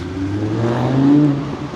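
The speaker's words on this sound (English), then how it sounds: "the roar of a Lamborghini just going past there" A Lamborghini sports car roars past on a Benidorm avenue, a deep engine note rising and swelling as it nears, peaking in the middle, then easing off as it moves away.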